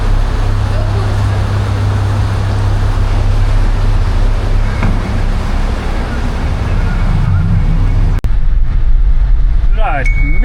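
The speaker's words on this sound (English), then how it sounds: "Boat's reacting fine with the new gearbox, as it should." A boat engine with a newly fitted gearbox drones steadily with a low hum under wind and water noise, and a voice speaks briefly over it.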